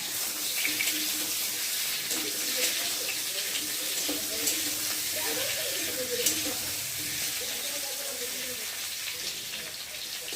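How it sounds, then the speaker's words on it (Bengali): A gas cylinder hissing in a home kitchen while potatoes are fried, a steady broad hiss mixed with sizzling, with a voice talking faintly underneath. "আমাদের এখান থেকে সিলিন্ডার আওয়াজটা শোনা যাচ্ছে।"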